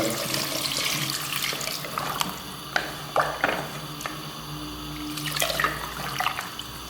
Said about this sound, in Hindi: उसके बाद हम 1 लीटर इसमें पानी शामिल करेंगे।